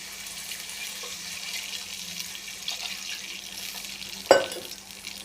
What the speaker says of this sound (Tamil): அதுக்கு ஒரு 3/4 செம்பு தண்ணி ஊற்றிக்கலாம்